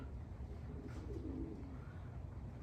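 A mated pair of racing pigeons coo at a loft during a one-loft race in Capistrano. The soft, throaty calls are faint against a constant hum of outdoor noise, and no voices are heard.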